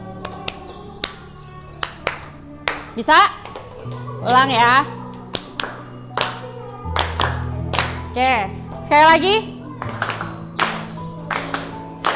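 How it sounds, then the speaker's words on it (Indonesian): A classroom of students claps in short, sharp bursts of hand claps, with pauses between the groups, while a teacher talks over and between the claps. "Yang sebelah kanan saya, ya, tepuk tangannya"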